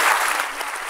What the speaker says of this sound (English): If you'd like to join your hands and clapping for the wonderful speakers.